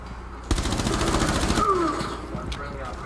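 Shotgun gunfire in the video game Rainbow Six Siege: a rapid burst of sharp blasts lasting about a second, loud and close, followed by quieter game ambience with players talking over it.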